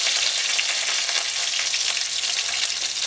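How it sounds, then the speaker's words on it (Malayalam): Curry leaves and mustard seeds frying in hot oil, with cut dried red chillies, give a loud, continuous close sizzle and spatter that holds steady throughout, with no talking. "2 കരിവേപ്പില ഇട്ട് കൊടുക്കുക"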